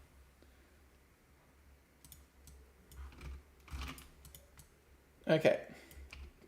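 Soft intermittent clicks of typing on a computer keyboard in a lecture setting, faint and scattered over a low hum, with a brief spoken word and a louder knock near the end.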